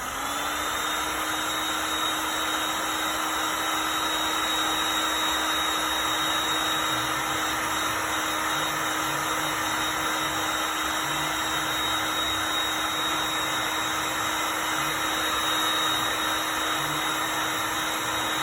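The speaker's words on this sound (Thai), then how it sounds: "เป่าห่างอีกรอบนะครับ" An air blower hisses steadily and loudly onto a car body during primer prep in damp, rainy weather, a continuous rushing whoosh with a faint tonal whine that holds unbroken throughout and has no talking over it.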